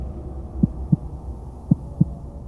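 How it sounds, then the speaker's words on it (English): Heartbeat sound effect in a horror story: two soft paired lub-dub thumps, low and muffled over a quiet hum, in a slow steady rhythm. "Everything was so quiet that Thomas could hear his heart beating in his chest."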